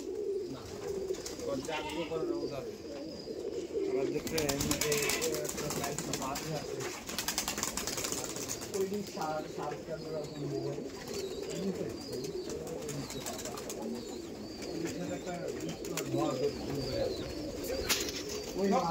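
Rajshahi Giribaz pigeons coo repeatedly in a loft, soft throaty calls overlapping from several birds close by, with someone talking at moments and occasional wing flutters and rustles in the background.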